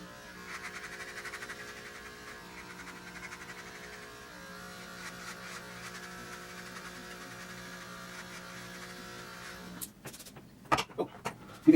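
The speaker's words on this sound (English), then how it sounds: "I usually do this while shaving my head" An electric razor runs steadily with a constant buzzing hum while someone shaves their head in a bathroom, ending in a few louder clicks and knocks near the end.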